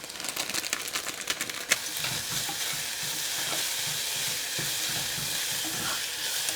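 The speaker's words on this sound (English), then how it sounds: "I'm just adding this just to cook it so it can get that spring onion flavor in the oil as well" Spring onion, packet spice mix and dried vegetables fry in hot oil while being stirred, a dense, steady sizzle close up, with scraping stir strokes early on.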